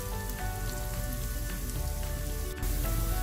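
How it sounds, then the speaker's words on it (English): Onions brown in a pan for a South Indian chicken curry with fennel and coconut milk, producing a loud, dense, continuous sizzle up close, with one brief sharp clatter near the end. "Let's go back to our onions. I'm going to brown this up nicely."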